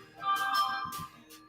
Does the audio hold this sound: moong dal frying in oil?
no